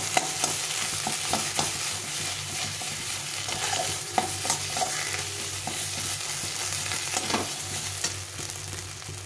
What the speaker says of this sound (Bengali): এইভাবে ভালো করে ঘুরিয়ে শুকিয়ে নিতে হবে, রসটাকে ভেজে নিতে হবে